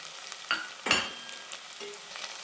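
Turmeric and chili powder frying with tomatoes in a pan for tomato rice, a soft sizzle with a few sharp scrapes of stirring, fairly quiet and close, with no voices.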